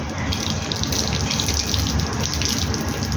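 Water gushes steadily from a hose or tap while plants are watered outdoors, a continuous loud broadband rush with no pauses.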